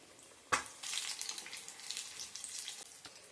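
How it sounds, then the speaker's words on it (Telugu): Egg bajji frying in hot oil on a medium flame, a bright crackling sizzle that begins with a sharp splash-like burst and then bubbles and spits steadily, close and fairly quiet. "స్టవ్ని మీడియం ఫ్లేమ్లో పెట్టుకొని గోల్డెన్ బ్రౌన్ కలర్లోకి వచ్చేంత వరకు ఫ్రై చేసుకోవాలి"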